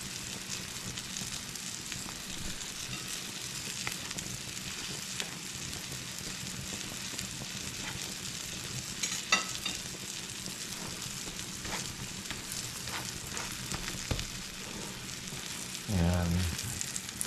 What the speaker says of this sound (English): And there you go, you got fried eggs.